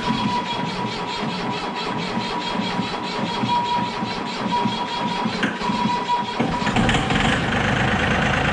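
An older vehicle with a flashing check engine light cranks and settles into a steady, rough idle, running continuously and fairly loud at close range with some scraping and rattling; its tone shifts toward the end.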